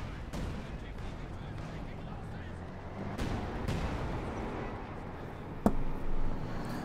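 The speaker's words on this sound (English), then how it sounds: "Assault gun barrage there against the MG42." Artillery-style barrage fire in a World War II strategy game, an assault gun pounding an MG42 machine-gun position: dense rumbling booms and a sharp blast near the end, all under continuous commentary.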